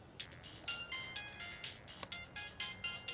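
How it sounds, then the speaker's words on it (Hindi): A mobile phone ringtone plays a repeating electronic melody indoors, faint and somewhat distant, in a steady looping rhythm. "किसका फोन है?"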